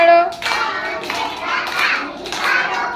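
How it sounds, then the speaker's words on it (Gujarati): Children clap their hands during a counting action song, several sharp bursts of clapping in a loose rhythm, mixed with children's singing voices close by. "ત્રણ કહેતા તાળી પાડો"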